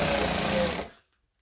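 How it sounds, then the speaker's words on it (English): A sewing machine runs a steady fast line of top stitching on a boom box style airliner cabin bag, buzzing close and even for under a second before it stops abruptly into silence. "So I'm going to do all of the normal stitching and then switch to a top stitching"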